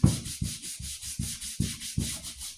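A nail brush scrubs dirt off a leather work boot in short, rhythmic strokes, about seven close, bristly rasps in quick succession with no talking.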